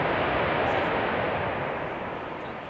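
An airliner landing at Schiphol with its thrust reversers engaged gives a broad, loud roaring rush. The rush holds steady, then slowly fades over a couple of seconds, with no voices audible.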